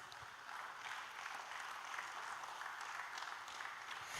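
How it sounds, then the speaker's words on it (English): Audience applause in a hall, welcoming a Hindustani classical vocalist at a music and meditation event, a dense, even wash of many hands clapping that holds steady throughout at a moderate distance, with no talking. "Let us all welcome him with a great round of applause."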